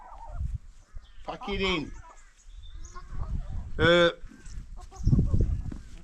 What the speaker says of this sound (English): Well, it's not a cow, it's a chicken.